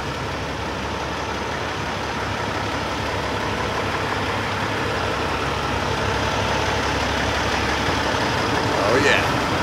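A freshly washed truck idles with a steady low exhaust rumble from its pipes, heard from inside the cab with the sunroof open, a continuous drone without voices over it.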